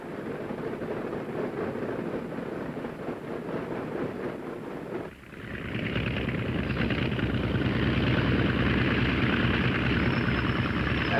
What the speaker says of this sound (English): Ground control having given us permission, we taxi over to the warm-up block.